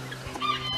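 A hen clucks close by in a short burst, a couple of quick throaty notes over faint background noise.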